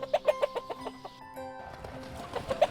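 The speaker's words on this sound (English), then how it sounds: "Hundreds of chicken flew out of the pot and ran helter-skelter in his house." A flock of chickens clucks in quick, busy bursts, close and fairly loud, with overlapping calls and a brief steadier tone in the middle, no talk.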